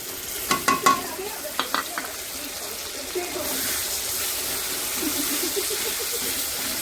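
Ground cumin paste goes into a pot of chicken bhuna khichuri. A few metallic clinks of a spoon against the pot lead into a steady, close hiss of sizzling oil that continues to the end.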